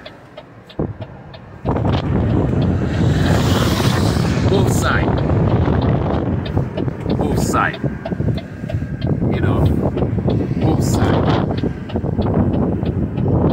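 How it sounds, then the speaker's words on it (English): Strong wind buffets and roars across open, flat, treeless US farmland, rumbling over the microphone almost continuously while a person talks. "it's kind of a little windy because there are no trees over here to hold the wind"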